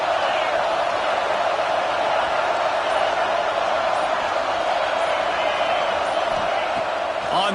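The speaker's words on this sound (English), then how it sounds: "This crowd trying to make life miserable for this offense." A packed football stadium roars as one dense, continuous wall of crowd noise, loud and unbroken, with a voice talking over it.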